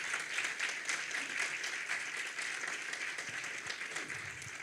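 A church congregation applauds together, a steady, fairly quiet wash of clapping from a room full of people, heard from some distance without distinct voices.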